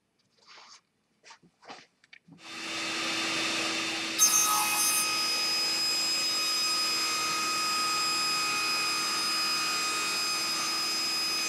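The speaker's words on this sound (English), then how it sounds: "Now I've repositioned the rip fence to cut out the 4-inch wide feet" A table saw rips 4-inch-wide wooden feet for a parts storage rack. A few soft knocks come first, then the saw spins up to a steady loud whine, and a harsher cutting hiss joins in as the blade bites the lumber.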